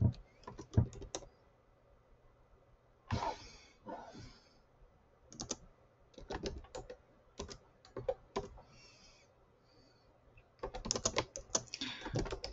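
Typing on a computer keyboard, bursts of rapid clicking keystrokes separated by short quiet pauses, fairly close.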